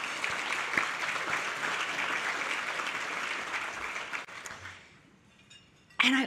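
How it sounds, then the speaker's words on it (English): Sustained audience applause at a women-in-conservation breakfast event, a dense steady crowd clapping for about four seconds that fades out, followed by a brief burst of noise at the very end. "Let's give them a round of applause too."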